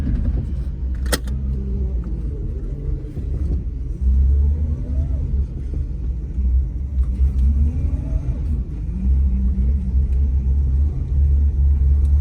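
A 1956 Chrysler New Yorker drives along a rough old dirt road, its engine producing a low, steady rumble with slight rises as it accelerates, heard from inside the car with light rattles and creaks.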